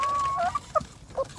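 A few short clucks from native village chicks, close by and fairly quiet, over a soft background hum.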